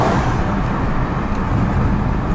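A Nissan Rogue with a TransGo JF011E transmission flow control valve fitted, cruising at about 25 mph, gives a steady, loud, close road and engine rumble from inside the car with no breaks and no talking.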